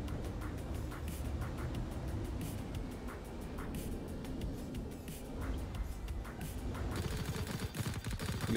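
Ship guns firing from an Aurora spacecraft during bounty hunting in Star Citizen, heard as a steady rapid stream of repeated shots over a dense low rumble that continues throughout.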